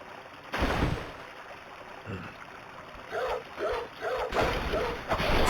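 A dog in the PS1-styled Bloodborne video game gives a few short barks and yips in quick bursts, fairly close, over quiet ambient background with occasional soft thumps.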